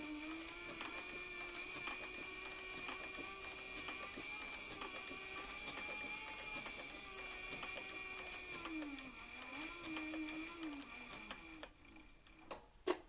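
Sewing machine stitching a leather guitar strap, a steady mechanical whir with rapid ticking needle strokes and slight speed changes, stopping near the end with a few clicks.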